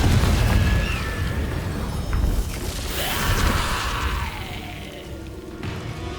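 A Confringo fire-blast spell from Hogwarts Legacy erupts in a heavy, rumbling boom that rolls on as a dense, loud wash of crackling debris and combat noise, with no voices over it.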